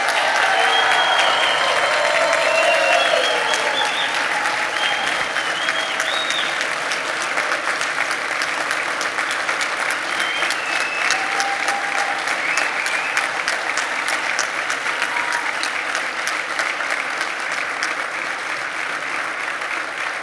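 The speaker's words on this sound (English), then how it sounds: "let's have a big round of applause to the newest members of the St. Louis Metropolitan Police Department" Loud, steady applause from the audience at a St. Louis Metropolitan Police Department graduation ceremony, a dense wash of clapping that carries on without a break for about twenty seconds.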